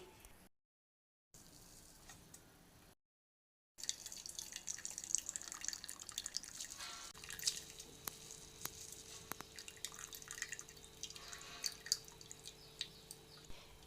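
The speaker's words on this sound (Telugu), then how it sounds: "ఇలా తురిమిన ముల్లంగిలో ఊరిన నీళ్ళన్నీ గట్టిగా పిండేసుకోవాలి." Water from grated radish squeezed out by hand and dripping, a faint, steady trickle with soft squishing and small drips, close, with no talking.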